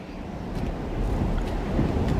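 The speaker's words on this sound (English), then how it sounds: "Oh, it's windy out there." Steady outdoor wind in the video game Riven, a continuous broad rushing hiss and low rumble that swells slightly toward the end, with no talk over it.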